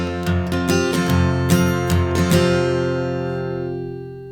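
Acoustic guitar strumming bars 3 and 4 of a song, several crisp strokes in an even rhythm before a final chord rings out and slowly fades, close and clear with no voice.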